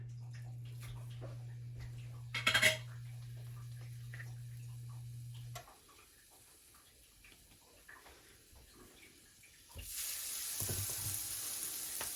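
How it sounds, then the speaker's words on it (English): Burger patties for Salisbury steak sizzle in a heated pan, a soft frying hiss broken by a brief clatter, then growing louder and brighter near the end. "now that our pan is heated, we are going to put a few of our patties in"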